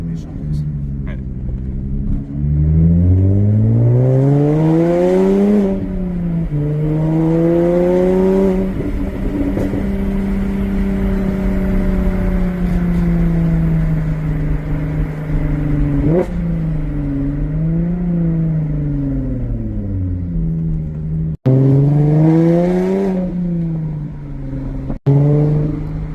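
Jaguar F-Type V6 340 hp with a stainless steel exhaust line revving repeatedly, rising and falling in pitch with a steady rumbling idle between blips, loud and close, a couple of sharp pops near the end.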